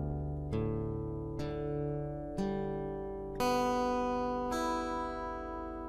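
An acoustic guitar tuned to drop D plays a song, five strummed chords ringing out one after another at a slow, even pace, quiet and clear with no voices.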